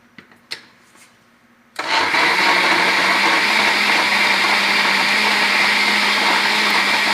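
Blender switching on after a few light clicks and roaring loudly and steadily while blending dates and apple into a milkshake.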